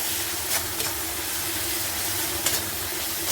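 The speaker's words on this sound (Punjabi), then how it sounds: "ਆਪਣਾ ਤੜਕਾ ਤੇਲ ਸੜਦਾ ਜਾਂਦਾ" Tempering oil sizzles and hisses steadily in a pan while besan bhurji is cooked, a close, continuous fry with a few brief louder spits of stirring and no talk.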